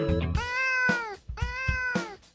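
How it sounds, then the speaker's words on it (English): A cat gives three drawn-out, clear meows in a row, close and loud, with brief pauses between them and no talk. "There is a cat in the barn."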